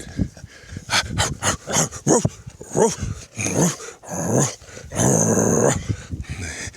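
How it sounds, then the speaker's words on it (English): A dog growls and barks in short, loud, irregular bursts at close range, with whimpering sounds and hissy noise between them. "He barks at me for no reason whatsoever."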